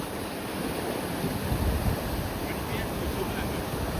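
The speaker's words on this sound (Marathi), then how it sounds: "बघू शकता तुम्ही किती पाणी वाहायलंय बघा." Floodwater pouring over an overflowing village pond, a loud continuous rushing wash with wind buffeting the microphone, steady throughout without speech.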